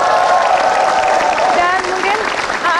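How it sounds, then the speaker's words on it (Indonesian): A studio audience at a talk show breaks into sustained, loud applause that fills the whole stretch, with voices talking faintly underneath the clapping. "Boleh tepuk tangan sekali lagi."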